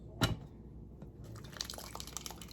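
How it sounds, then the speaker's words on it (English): Wet ingredients for gingerbread pear oatmeal bars, including egg, poured into a bigger bowl of dry ingredients with protein powder: one soft splashy plop, then faint, quiet liquid trickling and dribbling. "Now we're going to put I'm going to put the wet into the dry. It's a bigger bowl. So we're just going to pour it in."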